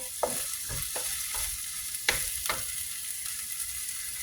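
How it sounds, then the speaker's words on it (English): Tomato and masala spices frying in a pan, a constant close sizzle broken by a few sharp scrapes and stirs of a utensil. "now we got that tomato cooking in there"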